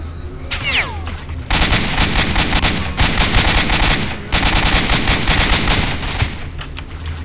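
Automatic gunfire in the S.T.A.L.K.E.R. Shadow of Chernobyl video game comes in long, loud, rapid bursts. Each burst is separated by brief pauses, and no one talks over it.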